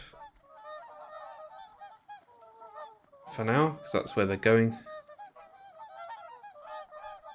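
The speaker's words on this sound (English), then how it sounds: "God, that's annoying, isn't it? Like geese sound." Geese in the city-building game Settlement Survival let out a burst of loud, close honks in the middle, set against a soft looping game tune, with someone talking before and after.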